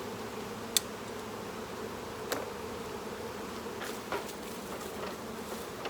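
Honey bees buzz steadily around an opened beehive while a beekeeper works the hive, adding a super and checking for varroa, a continuous close insect drone with a few sharp clicks.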